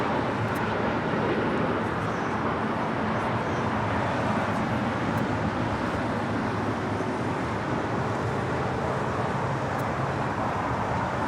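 An EVA Air Boeing 777-300ER taxiing at LAX comes through as a steady, broad engine rumble and roar. It holds at an even level throughout, with no voices over it.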